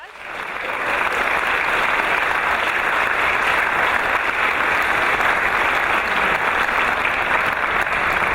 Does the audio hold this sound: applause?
yes